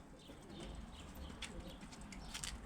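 Pigeons, including feather-footed birds, cooing softly inside a backyard coop, faint and steady against a low background hiss.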